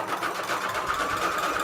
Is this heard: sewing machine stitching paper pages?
yes